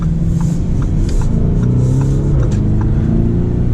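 A Lamborghini Urus SUV engine rumbles loudly and continuously as the vehicle drives, with a deep, steady roar and slight surges in intensity.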